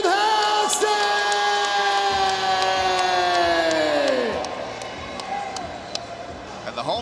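A hometown crowd at a boxing event cheers after the decision, a broad roar from an arena that runs under a loud announcer's voice and slowly fades.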